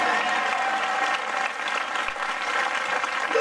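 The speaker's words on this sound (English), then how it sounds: "Come on, let's clap for Jesus." Church congregation clapping for Jesus during a prophetic service, a dense, continuous wash of many hands, steady and fairly loud, with a faint held tone running beneath.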